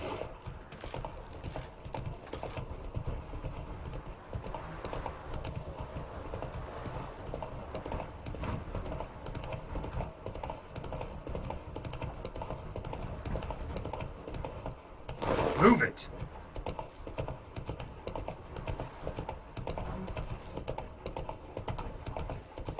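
Roach the horse trotting in The Witcher 3, rhythmic hoof clip-clops running steadily under game sounds and voices, with a brief louder burst midway.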